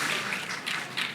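A short burst of audience clapping at a lecture on hydrogen cars, a brisk patter of hands sounding close and continuous with no voices.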